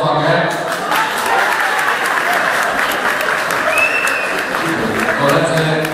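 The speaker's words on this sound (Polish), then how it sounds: "Wielkie brawa na taką odwagę." A crowd at a school open day claps loudly and continuously in a dense, sustained burst of applause, with faint voices and a whistle-like tone mixed in.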